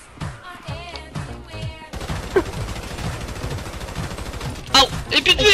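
Gunfire in a GTA 5 multiplayer session, rapid bursts of shots with a sharp rise near the end, under excited talk from players.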